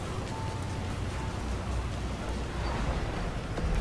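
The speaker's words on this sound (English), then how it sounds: "look at the rain" Steady rain falling in the video game Destiny 2, a continuous even hiss of downpour with no talking over it.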